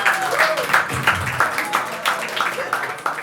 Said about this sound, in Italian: accogliamolo con un bel applauso, Liede!